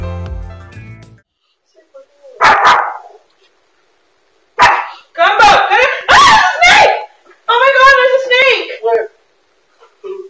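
A dog barks close and loud in several short clusters, sharp bursts separated by stretches of silence.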